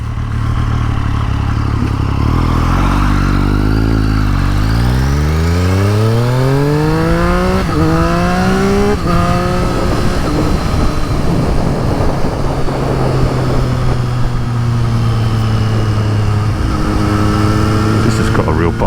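A 2023/2024 Triumph 765RS motorcycle with a decat full-system Akrapovic exhaust and Spark headers on a road test, loud and close, revving hard through several rising gear pulls with sharp shifts before settling into a steady drone.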